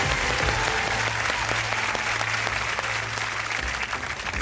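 A game-show studio audience claps continuously, a dense, steady wash of applause filling the whole stretch without pause.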